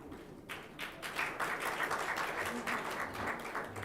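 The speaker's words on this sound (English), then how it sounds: "applause until she arrives" Audience applause at a live research and innovation session, steady clapping from a crowd held for several seconds at moderate distance, moderately faint, with no talk over it.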